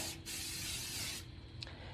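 Oil sprayed in one long continuous hiss onto grill parts to coat them against sticking, close and loud, then a short second burst near the end.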